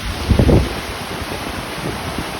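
A cascading waterfall along the Tuckerman Ravine Trail in the White Mountains of New Hampshire gives a constant, loud roaring hiss, with a brief rougher gust-like swell near the start.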